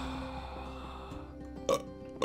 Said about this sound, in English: that was my disappointed burp